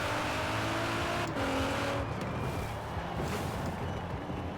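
A Nissan GTR in Forza Horizon 4 launches for a drag run from about 5,000 rpm, its engine roaring loud and close with rising revs and a brief tire squeal, no talking.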